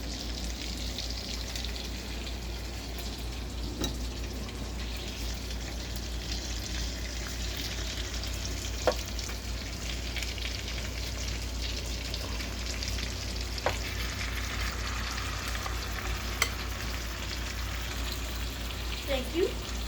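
Ground beef frying in a pan, giving a steady even sizzle throughout with a few faint clicks, close, with low voices talking at times beneath it.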